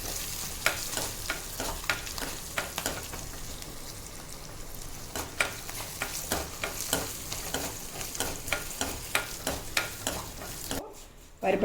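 Garlic frying in a pan for mint pulao, with a steady close sizzle and repeated scraping, clacking strokes of a spoon stirring it, continuing throughout without any voices.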